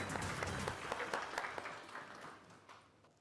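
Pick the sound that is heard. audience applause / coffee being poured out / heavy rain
audience applause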